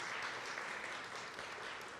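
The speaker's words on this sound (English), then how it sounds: "Please, the applause." Steady, faint applause from an audience at a student-led open forum with the Bronx Borough President, a continuous even patter of clapping with no voices.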